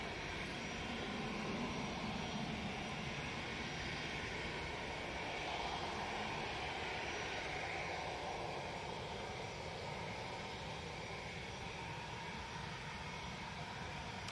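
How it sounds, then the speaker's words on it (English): An EasyJet Airbus A319 jet passes over the runway, making a steady broadband roar that holds at a fairly even, moderate loudness for the whole stretch, with no voices. "coming over runway 1 right now, we have an EasyJet, looks like 319"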